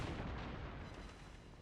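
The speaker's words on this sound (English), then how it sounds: "We'll take some shots at the North Carolina who is firing at us." Heavy battleship artillery booming in World of Warships, a dense, loud rumbling blast that fills the short moment and slowly decays, with no voices.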